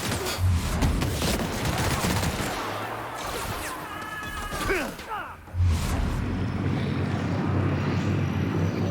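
Gunfire in the sci-fi game The Outer Worlds, a loud rattling burst of shots over rumbling background noise, with a brief pause and whooshing sounds before the firing resumes.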